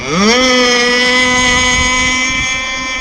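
A radio-controlled boat's Zenoah 30cc gas engine revs up from a low pitch and then holds a loud, steady buzzing drone for about two seconds before easing off, with no talk.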